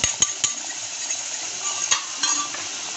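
Spinach puree being stirred in a pan for lahsuni palak with besan added, soft sizzling and scraping with a few sharp spoon knocks against the pan, close and without talk.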